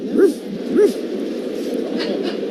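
Two sharp, close barks come from dogs at a hot dog costume contest held during a Diamondbacks–Cubs baseball game, where fourteen dogs compete in Chicago-style costumes; a low crowd murmur continues underneath.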